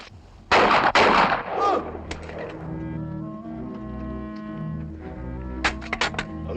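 Gunslingers fire in a film, with a burst of loud, sharp shots at the start followed by a rumbling, echoing tail and a few scattered later reports over a low background score.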